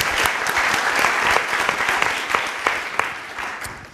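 Sustained applause from an audience honoring the dining hall staff at Williams, dense and steady clapping filling the room with a few sharper claps standing out.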